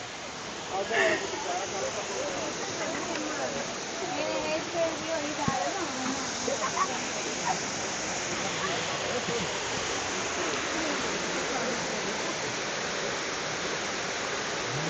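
Abbey Falls waterfall in Coorg during monsoon, a broad steady roar of rushing water filling the whole clip, constant and fairly loud, with faint voices briefly audible early on.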